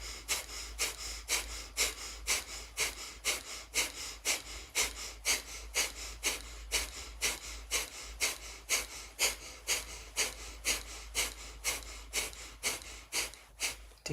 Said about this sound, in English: with the breath of fire, you feel the pumping of your navel happening really naturally